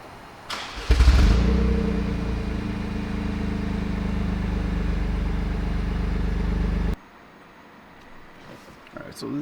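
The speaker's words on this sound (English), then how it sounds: "I'm gonna start the car for you guys right now" A Toyota GR Corolla is cold-started, with a starter burst and then a loud, deep, steady idle that runs for several seconds before cutting off abruptly.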